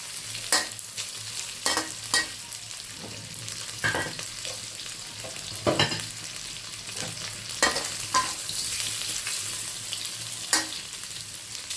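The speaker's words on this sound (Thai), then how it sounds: "เราไปผัดแล้วค่ะ จะผัดกุ้งก่อนนะคะ" Shrimp stir-fried in hot oil in a pan for tom yum fried rice, a steady sizzle punctuated by repeated sharp spatula scrapes and clinks at irregular intervals, close and alone.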